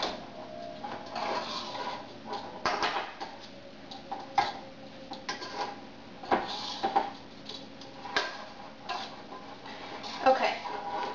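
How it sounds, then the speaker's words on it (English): Spoon stirring warm spiced cabbage in a pan, giving irregular scraping and clinking against the metal over a faint sizzle, close and fairly quiet. "Just mix it up with a spoon. Make sure you mix it well."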